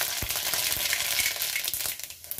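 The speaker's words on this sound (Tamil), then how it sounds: "எண்ணெய் காஞ்சிச்சுங்க, கடுகு போட்டுக்கலாங்க" Mustard seeds crackle and sizzle in hot oil for a Tamil masala sundal recipe, a steady close frying hiss with scattered sharp pops, fading slightly at the end.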